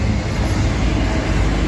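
Union Pacific train passing at Abbeville, a steady loud broadband rumble of rolling railcars and wheels with no breaks, close by and filling the whole stretch.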